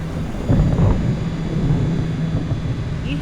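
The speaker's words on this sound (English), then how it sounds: "You have to be able to hear that thunder." Thunder rolls through a storm over open water near St Michaels and Annapolis as rain begins, a low, sustained rumble with a heavier swell early on and no voices.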